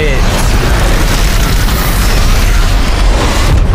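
A bomb in the film Ant-Man (2015) goes off in a loud, sustained, booming explosion that rumbles evenly for several seconds before cutting off abruptly.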